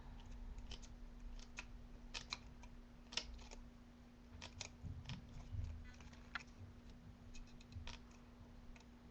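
Tim Holtz scissors snip through paper in faint, scattered clicks and crisp cuts against a quiet background hum, with irregular pauses between cuts.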